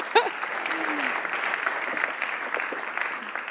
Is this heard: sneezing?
no